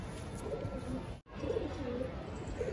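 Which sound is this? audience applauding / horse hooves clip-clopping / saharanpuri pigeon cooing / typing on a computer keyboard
saharanpuri pigeon cooing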